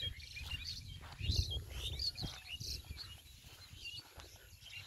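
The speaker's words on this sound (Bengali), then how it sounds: "এই যে শালিক," Myna birds chirp and call repeatedly at a moderate distance across a rice field on a winter morning in a village, with faint insect buzzing in the background.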